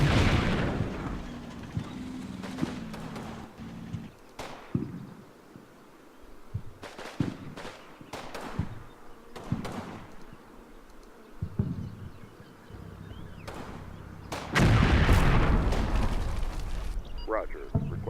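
Artillery fire in the World War II game Combat Mission Final Blitzkrieg, at Cheneux: repeated booming impacts and sharp blasts scattered through the stretch, with a heavy rumbling barrage near the end, mixed with voices.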